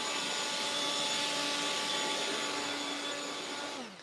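A light leaf blower runs steadily near the microphone while hedges are trimmed, a continuous airy roar with a faint whine, tapering off at the end.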